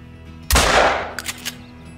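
A 12 gauge Cacciatore shotgun fires a single slug in the hunting game Call of the Wild, one loud close blast with a long decaying tail, followed by a few faint clicks of reloading.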